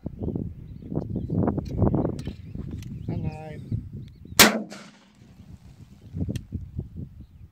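A .22 rifle fired at a BB-sprinkled can of sensitive Tannerite outdoors, one sharp loud crack midway, with people talking before and after the shot.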